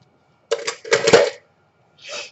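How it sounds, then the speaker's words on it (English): A pair of dirty scissors is being cleaned, producing a few short metallic clacking and snipping bursts close by, separated by brief silences and with no talking. "I'm just cleaning my scissors because they do get very,"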